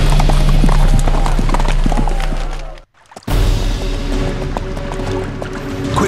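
Rapid clip-clop of several galloping horses in a King Arthur video game, loud and close, with a rumbling undertone; the hoofbeats cut out briefly near the middle, then resume.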